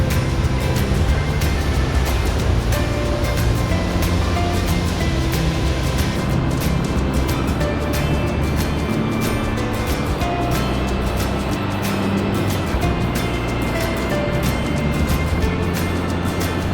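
Torrent of water rushes down the misty stone steps beside Vernal Falls in Yosemite, a steady loud broadband roar filling the whole stretch without a break.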